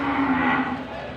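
A water buffalo (carabao) on a livestock farm gives one long, loud, steady moo that fills the whole moment, with no talk over it.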